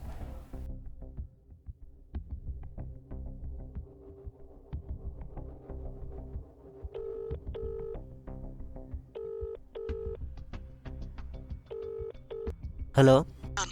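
A mobile phone call is dialed and rings, with repeated electronic tones in short evenly spaced bursts over steady background noise and speech, ending in a brief loud burst.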